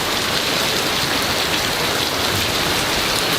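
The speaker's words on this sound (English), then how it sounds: "It was raining so hard. We really needed this rain." Heavy rain pours steadily and densely, a constant loud wash of drops with no pauses.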